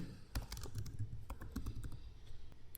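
Typing on a computer keyboard while entering a cash customer in Zoho Books accounting software, a close run of irregular key clicks with a few louder taps and no talking.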